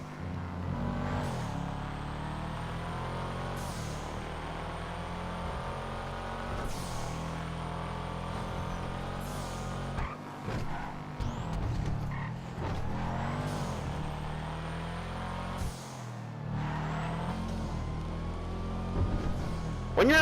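A Karin Sultan RS engine in Grand Theft Auto Online drones steadily, rising and falling in pitch through repeated revs and gear changes, with brief dips where the throttle lifts, loud and continuous throughout.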